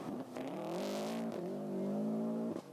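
A Mitsubishi Lancer Evo 5 Group N rally car on a rally stage holds a loud, close engine note that climbs steadily under acceleration for nearly three seconds, then cuts off abruptly at the end.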